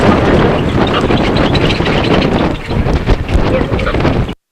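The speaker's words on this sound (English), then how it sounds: "Lots of wind." Strong wind blasting across a sailboat during a race at a naval air base lagoon in Alameda, a loud, continuous roaring rush buffeting the microphone, with faint shouting buried underneath before it cuts out abruptly.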